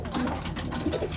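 Pigeons cooing nearby at a bird coop, a soft low murmuring call repeating through the short stretch with faint background noise.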